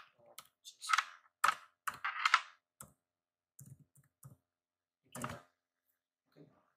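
Computer keyboard keys typed in short irregular bursts, clear and close in a quiet room, with brief pauses between clusters of clicks.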